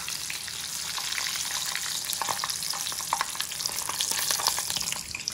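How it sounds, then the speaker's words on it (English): Crappie fillets sizzling in a frying pan, a steady hiss of hot oil with small crackles and pops throughout. "It just makes a sizzle, man."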